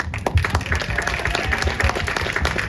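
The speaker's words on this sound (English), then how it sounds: "raise your hand so we can all clap for you" An outdoor crowd at a community mural dedication and ribbon cutting applauds the mural's contributors, with dense, fairly close clapping sustained throughout and no speech over it.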